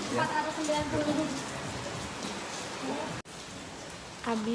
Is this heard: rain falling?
yes